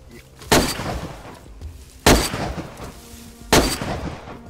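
Gunshots ring out in DayZ, a survival shooter, three sharp loud reports spaced about one and a half seconds apart, each with a brief rolling tail over quiet ambient background.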